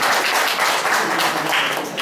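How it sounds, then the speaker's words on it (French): An audience applauding at a book launch event: a loud, dense wash of many hands clapping at once, steady throughout and close. "que je vous demande d'applaudir."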